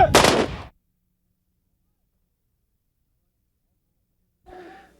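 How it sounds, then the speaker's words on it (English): Gunfire from a 21-gun salute: one sharp, loud report cracks at the start and decays quickly, then silence follows until a fainter sound near the end. "The Afghan fighter received a 21-gun salute."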